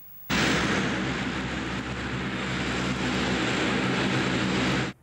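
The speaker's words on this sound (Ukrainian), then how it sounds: "Останній літак з тілами загиблих пасажирів малайзійського Боїнга покинув Україну." A departing airplane carrying the bodies of Malaysian Boeing crash victims roars steadily and loudly from a sudden start for about five seconds, then cuts off, with no talk.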